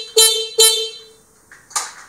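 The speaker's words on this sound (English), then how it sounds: "So here's the stock horn" Stock motorcycle horn honking two short, loud, close beeps in quick succession, followed by a couple of brief, fainter tones.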